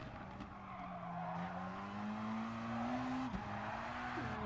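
Race car tyres squeal and skid in a racing video game, a steady close screech with a rising and slightly wavering pitch, laid over the constant drone of the engine for several seconds.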